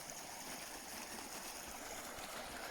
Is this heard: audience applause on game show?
no